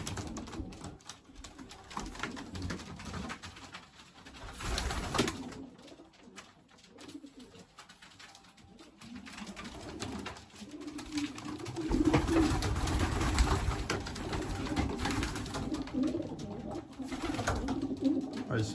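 Racing pigeons cooing in a loft, soft repeated low coos rising and falling, fairly close, with faint rustling and a little talk in the background.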